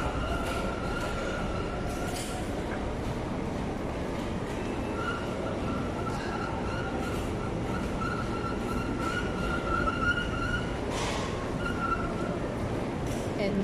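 An MRT metro train rumbles steadily through a station, with a constant low roar, faint brake squeals and a hum of people talking in the background.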